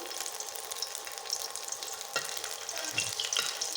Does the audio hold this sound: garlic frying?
yes